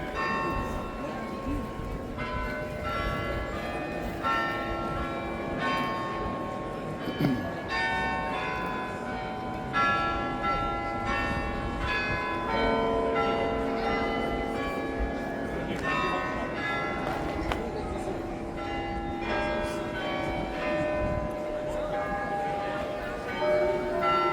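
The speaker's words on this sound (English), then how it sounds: "Oh, there goes some bells." Church bells ringing in Amsterdam, with many overlapping tolls in an uneven pealing rhythm over street ambience, moderately distant and continuous.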